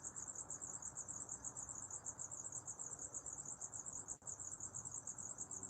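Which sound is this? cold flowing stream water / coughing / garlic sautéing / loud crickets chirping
loud crickets chirping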